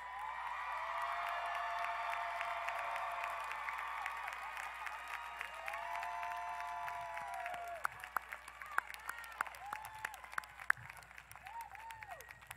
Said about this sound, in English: And one last round of applause for our graduates.